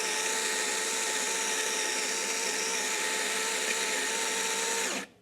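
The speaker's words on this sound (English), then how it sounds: "This grinder is very fast and produces a wonderful grind." A Baratza Sette 30 coffee grinder grinding beans for espresso gives a steady, loud high-pitched whine that runs unbroken for about five seconds, then cuts off abruptly.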